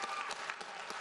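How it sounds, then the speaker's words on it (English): Applause rises for three honourees at a School on Wheels graduation ceremony, a brief burst of crowd clapping that sounds faint and somewhat distant. "So please, round of applause for the 3 behind me"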